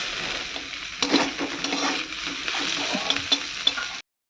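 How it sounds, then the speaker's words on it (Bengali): Bottle gourd peel and spring onions stir-frying in a pan, a steady sizzle with scraping stir strokes and a few sharp clinks, fairly close and alone until it cuts off. "লাউয়ের খোসা আর পেঁয়াজ কলি ভাজা হয়ে গেছে"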